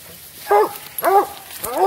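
Coon hunting hounds bark and bay close by, three loud drawn-out yelping calls spaced about half a second apart over quiet outdoor background.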